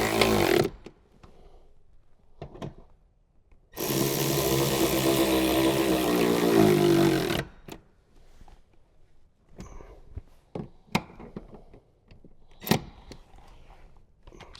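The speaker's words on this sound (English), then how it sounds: "Now we'll grab our 14mm socket and we'll get these tightened down." Ratcheting 14mm socket wrench tightening bolts inside a Toyota Tundra during an amp and subwoofer install: a few seconds of steady close mechanical whirring, then scattered sharp clicks and taps in otherwise quiet surroundings.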